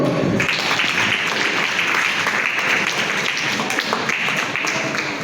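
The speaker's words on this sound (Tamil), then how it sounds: "விழாவை கைத்தட்டுங்கோ" Audience applause at a veena music world-record event in Karur, a steady dense wash of clapping from a large crowd, loud and continuous throughout.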